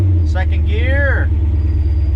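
A 1968 Chevy C20 pickup with a big block engine drives in second gear, a loud, deep, steady engine rumble close by as a voice speaks briefly over it.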